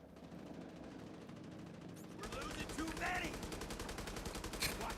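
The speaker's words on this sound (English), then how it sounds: "This guy's just shooting the ground." Video game gunfire sprayed at the ground, a rapid steady burst of automatic shots that starts partway in and continues to the end, fairly loud and dense.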